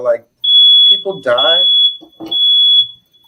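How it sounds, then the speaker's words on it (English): A household smoke alarm gives loud, piercing high-pitched beeps, two long tones with a short break between them, while someone talks over them. "Damn it, that's my smoke alarm."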